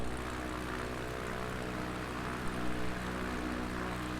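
X Cub light aircraft engine and propeller droning steadily in flight with power reduced on the base leg over Scottish countryside, a loud continuous cabin roar with a slight swell near the end.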